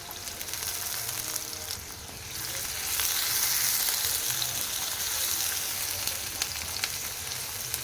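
Chopped medium onion sizzles steadily in a hot pan for capsicum curry, a dense continuous frying hiss that swells louder midway, close up, with no voices.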